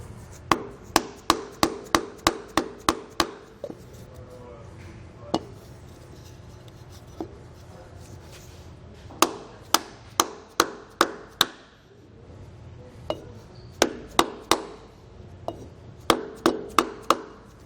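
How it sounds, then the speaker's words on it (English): Sharp, close knocks from hammering an electric trailer brake part into place with a block of wood, struck in quick runs of several blows with short pauses between them. "sometimes it helps to even grab a block of wood and give it a shot that way too if it's fighting a little bit"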